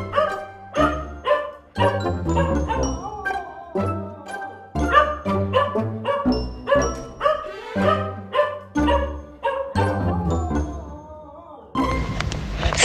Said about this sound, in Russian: Собака проснула и стала лаять